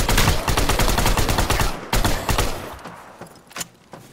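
Rapid gunfire bursts crackle loudly in the alien-invasion survival PC shooter Shattered Skies, dense volleys for the first two seconds, then thinning to scattered single shots.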